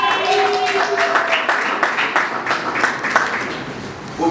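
Audience applause at an award ceremony, rhythmic clapping with distinct beats under a voice speaking over it, plus a brief tonal whistle or squeal early on, steady and fairly loud throughout.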